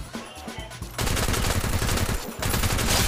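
Rapid automatic gunfire in Garena Free Fire gameplay, sustained dense bursts of shots after a quieter opening, with a short break before the firing resumes.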